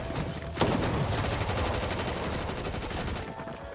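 Gunfire in the Fortnite video game, a dense, loud rattle of rapid shots with a sharp crack near the start, continuous for a few seconds with no talking.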